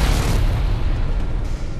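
A ground target blows up in the Air Corp flight video game, heard as a loud, deep, rumbling explosion that fills the whole moment and stays close and heavy without fading.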